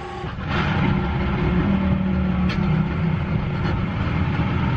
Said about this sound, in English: Probably don't need the engine on, but if the wind picks up, I might need it.